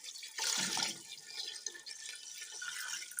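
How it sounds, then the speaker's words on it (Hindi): Water pours into a cooking pot of chicken curry with salt and spices, a brief bright splashing gush near the start, then softer trickling and dripping that fades under quiet background noise. "पानी ऐड करेंगे"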